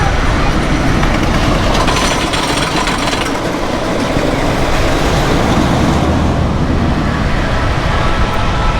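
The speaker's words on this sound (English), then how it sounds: "There goes the delinquent train." A roller coaster train at Kings Island roars past loudly and steadily, a dense rumbling rush of wheels on track that fills the whole stretch without letting up.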